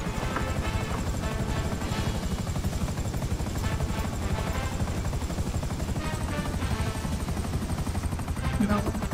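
Helicopter in the video game GTA 5, a steady loud rotor chop and engine drone running through the whole stretch, mixed with game sounds and some talk.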